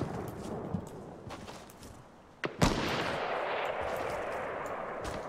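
Gunfire in a Fortnite match: scattered faint distant shots, then one sharp loud crack followed by a burst of rapid shooting that carries on under the game's background noise.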